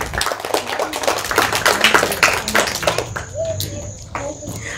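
A crowd claps loudly and rapidly for a few seconds, then the applause tapers off into quieter room noise with faint voices.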